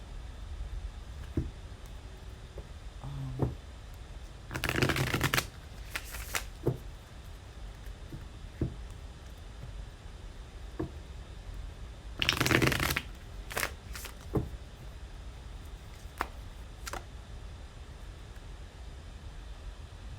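Tarot cards being shuffled in two loud bursts of riffling and rapid flicking, with soft, sparse card taps and handling between them against a quiet background.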